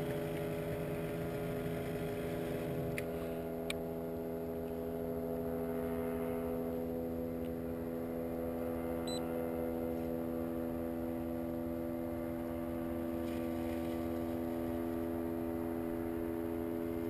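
Boat motor running steadily throughout, a continuous droning hum with strong low tonal bands and a constant, unbroken level with no voices.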